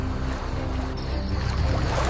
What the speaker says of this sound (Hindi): दोनों ने नाव को खोला और झील के पानी में उतार दिया।